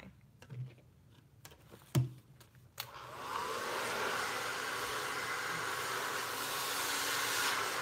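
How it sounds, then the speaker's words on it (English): A handheld blow dryer drying hair during a silk press, its steady loud whoosh starting about three seconds in and running unbroken after a few soft clicks and knocks. "you want to make sure that you are using your blow dryer and your brush like a flat iron"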